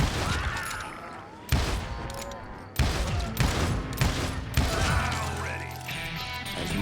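Gunfire in the Western shooter game Call of Juarez Gunslinger, a dense run of loud gunshots and sharp bangs with mechanical clatter, several heavy blasts standing out, over continuous game ambience and shouted voices.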